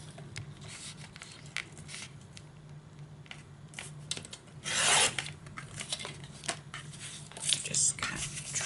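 A paper trimmer slices through craft paper in one brief rasping swipe, preceded and followed by soft taps, rubbing and handling of the paper at close range.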